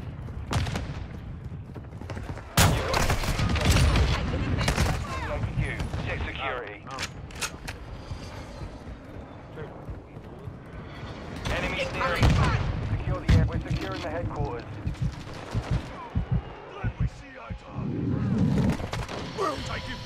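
Rapid automatic rifle fire and explosions crackle through a Call of Duty Modern Warfare 2 multiplayer headquarters match, with bursts of shots and booms coming in dense clusters, mixed with in-game voice callouts.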